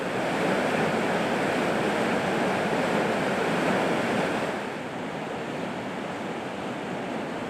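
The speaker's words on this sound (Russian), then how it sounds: "под которым бушует 4-метровый водопад" A powerful 4-metre waterfall in a rocky canyon in the Altai roars continuously up close, a dense, unbroken rush of churning water that eases slightly toward the end.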